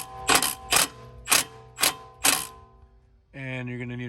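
Five sharp metallic ratcheting bursts from a wrench loosening the level sensor on a BMW 535i, evenly spaced and close, followed by a brief tonal hum at the end.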